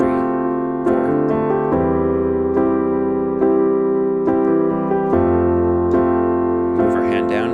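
Piano chords ring out in a worship-style progression, with the right hand striking steady quarter-note hits over sustained, resonant harmonies and a few clear chord changes, played alone at close range.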